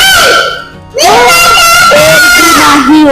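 A little girl screams loudly, a shrill, wavering cry that breaks off briefly and then rises again, sustained and close.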